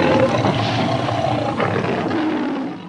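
A lion roars in a long, rough, sustained roar that stays loud and steady for about three seconds, with nothing else heard.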